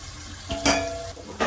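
Marinated chicken for a chicken gravy drops into a hot pan, giving a brief scrape and clatter followed by a bright burst of sizzling, then a second quick hiss.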